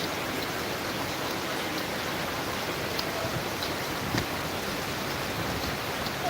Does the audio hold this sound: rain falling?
yes